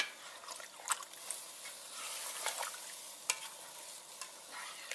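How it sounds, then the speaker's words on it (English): Beef stew with bay leaves stirred in a pot, quiet sloshing and scraping with a few sharper clinks of the spoon against the pot, close up with no talking. "Give it a nice stir"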